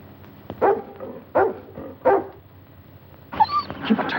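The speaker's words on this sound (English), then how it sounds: "Keep a tight grip on that dog." A dog barks three times in an even rhythm, each bark sharp and close, followed by a run of higher whimpering yips.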